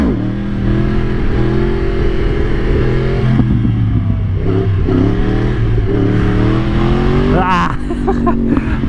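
A Yamaha R1 1000cc sport bike runs loud and close while the throttle is eased open for a wheelie. The engine drones and rises in pitch, with a few surges and a sharper rev near the end.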